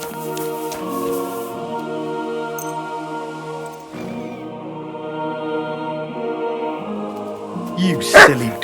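A dog in Kingdom Come: Deliverance 2 barks and yips near the end, a brief burst over a steady musical game soundtrack, with no talking.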